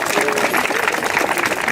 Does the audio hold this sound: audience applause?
yes